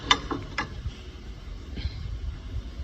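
A cable reel is pulled out with a few sharp ratcheting clicks at first, then softer mechanical rattling and rumble nearby.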